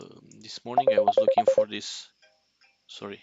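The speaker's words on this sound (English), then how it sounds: "that's my phone" A mobile phone ringtone plays as a rapid string of short, clear electronic beeps, mixed in with someone talking close to the microphone.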